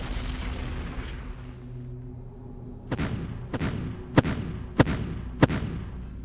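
Artillery fire in the Ardennes Offensive strategy game, after a low rumbling lead-in, five sharp booms about half a second to a second apart, fairly loud against a quiet background.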